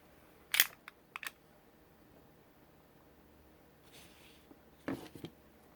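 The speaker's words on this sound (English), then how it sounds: "So we'll go ahead and put the magazine in." A magazine goes into a Llama Micromax .380 pistol, giving a sharp click and a couple of light taps early on, then another short cluster of mechanical clicks near the end, close and quiet in an otherwise still room.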